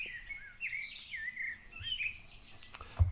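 Birds chirp and tweet outdoors in a series of high, fluttering calls at moderate distance, with a soft thump near the end and no talking.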